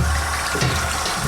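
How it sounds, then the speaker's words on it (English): Hot water runs from a kitchen sink tap into a pot, a loud, steady close-up rush with no pauses, while home brewing is under way. "I'm just going to fill it up with hot water from the tap"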